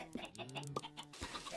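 Chickens in the Minecraft video game cluck in short bursts, several overlapping calls over a low synthetic hum, fairly close and moderate in level.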